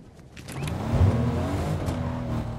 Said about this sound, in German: Wir nehmen mal das Auto und fahren da mal hin.